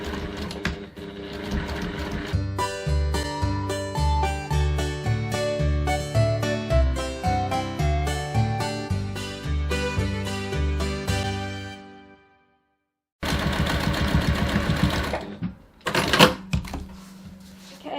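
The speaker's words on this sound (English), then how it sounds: "I'm just going to run a second row of stitching just to reinforce that seam right next to the first one" A sewing machine runs a second reinforcing row of stitches along a bag's side seam, rapid rhythmic clatter in long bursts, then a pause before shorter runs and handling noise.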